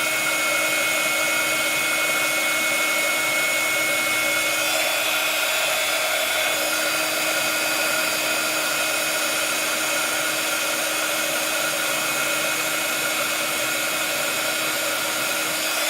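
Craft heat tool blowing hot air from underneath a piece being coloured, a loud steady whirring hiss with a constant whine, running continuously and close.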